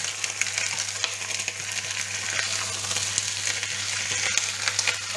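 Turkey osso bucco sizzles and crackles steadily in a hot pan, a dense, even frying hiss with small pops throughout, close and fairly quiet with no voices.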